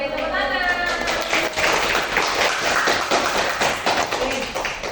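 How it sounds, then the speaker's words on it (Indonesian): Classroom pupils clap together in a burst of quick, uneven hand claps, fairly close and lively, with a voice talking over the start. "Oke, tepuk tangan."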